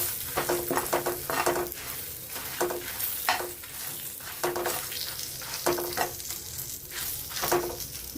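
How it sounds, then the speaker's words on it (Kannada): Byadagi chillies fry in a pan for a Udupi Brahmin wedding-style cucumber huli, with a continuous close sizzle and rhythmic bursts of stirring and scraping repeating every second or so. "ಸ್ವಲ್ಪ ಬ್ಯಾಡಗಿ ಮೆಣಸು ಫ್ರೈ ಆಗಬೇಕು ಚೆನ್ನಾಗಿ."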